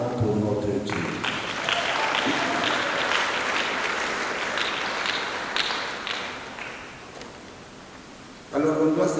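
A congregation bursts into sustained applause lasting several seconds at a Marian-month Mass in the Notre Dame de Fatima parish church, with a voice speaking just before and resuming as the clapping fades.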